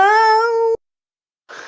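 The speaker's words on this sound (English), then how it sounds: "What are you doing, kitten?" A kitten gives one clear, close, tonal meow lasting under a second, then a brief silence and a soft rustling noise.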